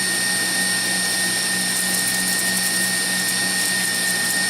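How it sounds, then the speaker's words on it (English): Steady, loud electric whirring of a mixer whisking chocolate cake ingredients together, a constant motor drone with no pauses. "I'm going to whisk that together."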